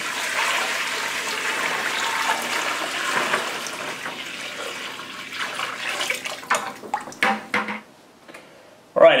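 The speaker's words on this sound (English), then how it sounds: "Pour the brine on here" Brine poured over salmon in a container for smoking: a steady splashing, gurgling pour that runs close and loud for several seconds, then breaks into a few sloshing spurts before stopping.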